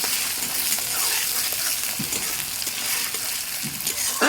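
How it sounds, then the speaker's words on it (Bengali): Chopped onion fries in a pan with a close, steady hiss. Occasional soft scrapes and taps come from stirring. "কেটে রাখা পেঁয়াজটা দিয়ে দিলাম। পেঁয়াজটা ভালো করে লাল লাল করে একটু ভেজে নেব।"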